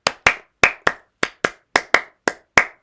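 Ten sharp, separate hand claps at a loose, uneven rhythm, close and clear with short decays and silence between them, as someone claps for a young boy while getting ready for prom.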